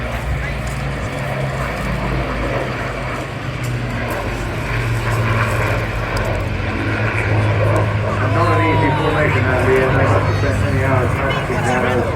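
A multi-role aircraft flies a display at the Eastbourne Airshow, its loud engine roar sustained and swelling as it passes close overhead, with an announcer's commentary running over the noise.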